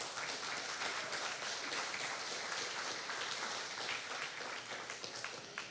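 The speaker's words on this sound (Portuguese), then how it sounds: "pode aplaudir o Senhor" Church congregation clapping during a Portuguese-language sermon on family mental health, a continuous wash of many hands applauding, even and sustained, mid-distance and moderately loud with no voice over it.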